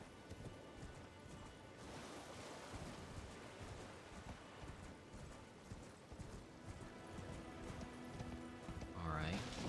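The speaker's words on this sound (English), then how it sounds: "Come on, bring the horse out." Hooves of a horse in the game Elden Ring clip-clop in a steady rhythmic gallop across a beach, fairly faint under wind and surf, with a brief whinny-like rise near the end.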